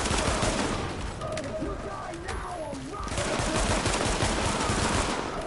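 Gunfire in an urban survival video game, a steady rattling fusillade of shots under broad noise, with a brief lull midway before the firing picks up again; no clear speech.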